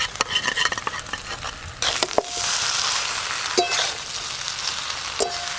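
Fried prawns being stirred into okra in a pan: steady sizzling frying with scraping stir strokes and a few sharp clacks of a utensil, close and continuous.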